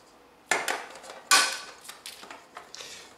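A metal springform baking pan clanks and rattles as it is picked up and set down, a few sharp metallic knocks followed by lighter taps, close, with no voices.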